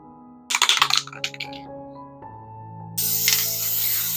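Short hissing bursts of aerosol fixative spray over a pencil drawing, several quick puffs followed by a longer continuous spray, heard over a sustained background tone.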